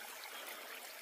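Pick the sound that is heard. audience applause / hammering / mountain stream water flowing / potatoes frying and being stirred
mountain stream water flowing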